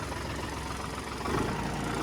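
A tractor engine idles in neutral in a farm field, a steady low rumble held close and even, with a slight swell near the end and no voices.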